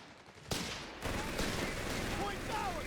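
Battlefield gunfire from Company of Heroes 3, a dense, continuous crackle of shots that swells into a sustained rattle like machine gun bursts, with a faint voice talking underneath.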